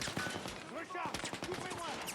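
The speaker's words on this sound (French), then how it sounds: "On ouvre le feu!" Gunfire in the Battlefield 6 video game: a dense run of sharp shots and rapid bursts with clattering impacts, mixed under overlapping game voices.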